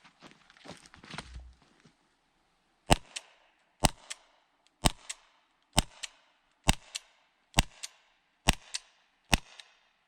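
Eight sharp, evenly spaced shots from an Umarex Walther PPQ M2 LE Gen2 .43 caliber less lethal launcher fired at about 30 feet, each a crisp crack, after a little handling rustle.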